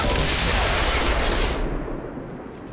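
Rapid burst of Fan Fire pistol shots in the XCOM 2 video game, a dense loud fusillade that fades away after about two seconds.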